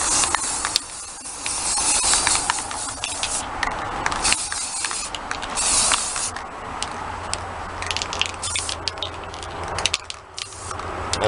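A spray can lays clear coat for plastic onto a part of a DualShock 4 controller, giving bursts of close hissing spray with small clicks and taps between them and no talking.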